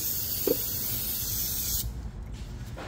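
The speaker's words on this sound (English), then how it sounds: "Now we're just gonna spray some brake cleaner." Brake cleaner sprays from an aerosol can onto a Toyota RAV4's brakes in one long, loud, steady hiss that cuts off abruptly, followed by quiet handling noises.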